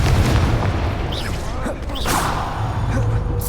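Confringo fire-blast spell detonating in a Harry Potter video game, a loud booming burst with whooshing swells amid continuous game noise, close and dense throughout.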